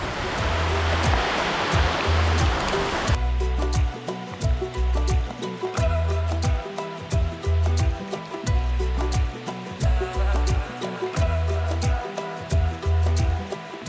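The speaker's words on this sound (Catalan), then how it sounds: "ara està diluviant." Heavy tropical rain pours down in a dense, steady roar with rhythmic low thumps and drips throughout, loud and close, heard from shelter under a tree on Ometepe.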